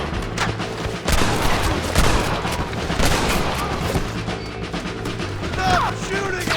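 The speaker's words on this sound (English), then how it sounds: "Stop shooting at me!" Gunfire in Red Dead Redemption crackles in a dense, irregular volley of shots layered over one another, loud and close, continuing steadily across the whole stretch.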